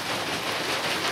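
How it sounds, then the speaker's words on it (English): Heavy rain pouring down outside a portable building under construction, a brief dense steady hiss with no other sounds. "it's pouring down rain"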